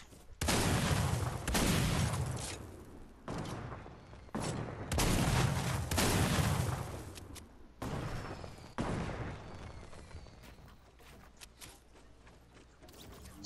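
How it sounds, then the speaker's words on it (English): Several loud, sharp sniper rifle shots ring out in a Fortnite match, roughly six or seven cracks spaced about a second apart, each with a booming decay, fading into quieter game ambience toward the end. "Someone just got sniped."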